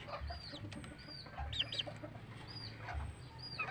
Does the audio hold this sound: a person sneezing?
no